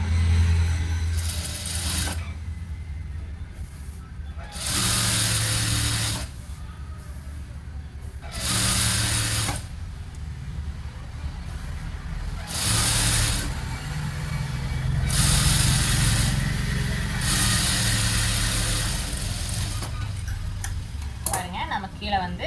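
Sewing machine stitching along the edge of a blouse cloth, several loud bursts of rapid whirring stitching separated by pauses, with someone talking between and over them.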